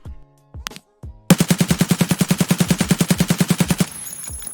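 UMP submachine gun in Escape from Tarkov firing one sustained automatic burst of about twenty-five evenly spaced loud, close shots after a few brief mechanical clicks, ending in a short ringing tail.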